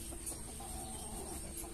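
Jungle-crossbreed hen and her chicks cluck softly and steadily nearby, a low continuous murmur of fowl calls over a faint background hum.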